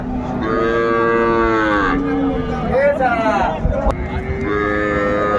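A cow with her calf moos repeatedly at a busy cattle market at Raniganj haat, long loud drawn-out calls close by over a murmuring crowd background.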